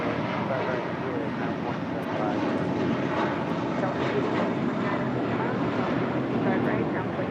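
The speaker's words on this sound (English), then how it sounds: "That was JetBlue Airways Flight 1874 heading to Newark and then A321." A JetBlue Airbus A321 airliner on the runway at LAX: a loud, continuous broadband jet roar holds steady throughout, with faint wind noise and no clear voices.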